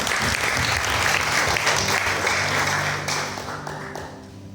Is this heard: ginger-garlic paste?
no